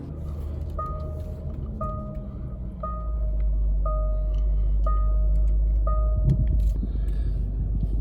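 A Range Rover L322 seatbelt warning chime rings about six times at a steady, roughly one-second interval, each a clear two-tone ding over a low, constant engine rumble.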